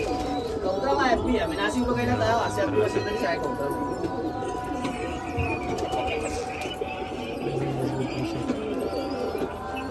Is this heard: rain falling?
no